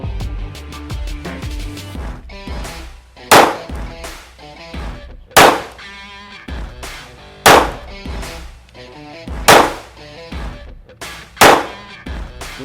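Single shots from a Kimber Micro 9 pistol, fired one-handed at a head target on a range, ring out loud and sharp, about six of them spaced a second or two apart, each followed by a metallic echo.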